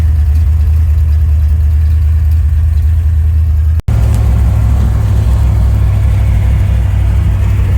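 A 1970 Ford Mustang Fastback engine rumbles steadily at close range with a deep low drone, briefly cutting out for an instant before resuming its continuous running.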